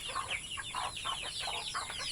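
Pure native chickens clucking nearby in a rapid, repeated run of short clucks, a steady outdoor flock chatter with no talk over it.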